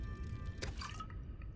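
Water being drunk in the video game Subnautica: Below Zero, a short liquid drip and gulp sound at moderate level over a steady low ambient hum, with no talking.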